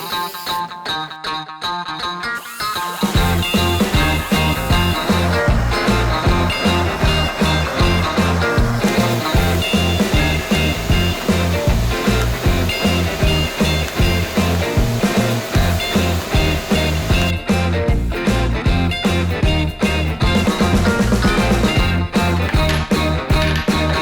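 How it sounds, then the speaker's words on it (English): Welding on torque arm and chassis parts for a 1970 Dodge Charger, a loud, steady, rapidly pulsing buzz that runs nearly unbroken for about twenty seconds after a brief quieter start. "But now comes the fun part, being able to weld."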